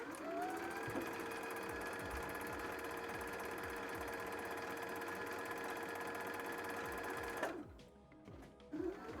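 A sewing machine winding a red bobbin hums steadily and loudly for about seven seconds, then cuts off, followed by brief clattering handling sounds.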